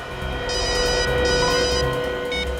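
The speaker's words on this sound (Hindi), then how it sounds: "उस खबरी रघु का फोन था" A telephone rings indoors in a crime drama scene, electronic ringing bursts repeating over a steady background tone, fairly loud and close.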